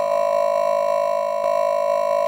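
A sustained tone from a Noise Engineering Cursus Iteritas Percido synthesizer module with a bright, vowel-like timbre holds steadily, pulsing faintly, with no voices.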